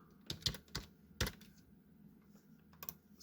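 Computer keyboard typing alone at a quiet desk: a handful of separate key clicks, with a close double tap near the start and another near the end, crisp and fairly close, with no talk over them.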